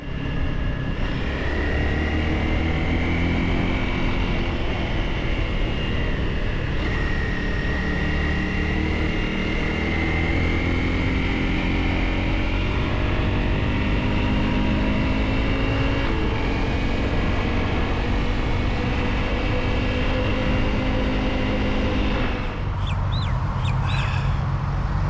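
A Honda CRF300 Rally motorcycle cruises on a freeway with a steady, droning engine hum under constant roaring wind rush, loud and unbroken for the whole stretch.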